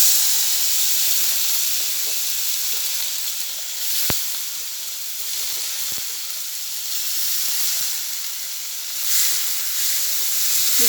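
Loud continuous sizzle as tomatoes hit hot oil seasoned with five-spice for a fish curry, a close steady hiss with a couple of sharp clicks and swells of steam, no talking.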